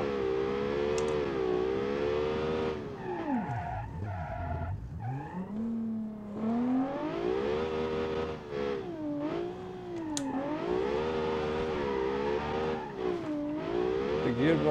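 Simulated FWD car engine in the game Automation revving hard through gear changes, a loud continuous whine rising and falling in pitch with sharp dips between shifts, alone with no talk.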